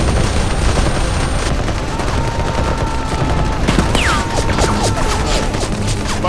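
A volley of gunfire bursts loudly in a staged war scene, with rapid crackling shots and booms over a dense battle din and occasional shouted voices.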